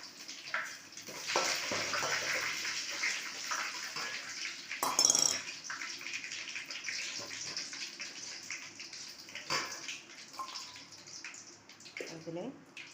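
Mustard seeds and dry curry leaves frying in hot oil for a tomato pickle, a soft continuous sizzle with faint popping crackles and a few sharper spatters, under quiet kitchen sounds.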